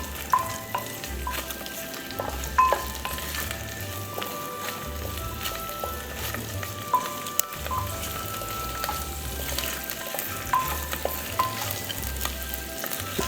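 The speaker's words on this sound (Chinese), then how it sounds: "在砂煲中炒香。" Star anise, cardamom, bay leaves and dried chilies crackle and sizzle as they are stir-fried in a clay pot for a Chongqing-style chicken pot, a close continuous hiss with intermittent stirring clicks.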